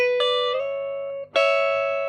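A rockabilly-style guitar lick from a song, with two picked notes each sliding up into a sustained, ringing tone, clear and solo over about two seconds.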